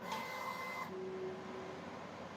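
Centauri Carbon 3D printer preheating its nozzle, a steady mechanical hum with a faint high whine that drops away partway, then a thin sustained tone, continuous and close with no talk.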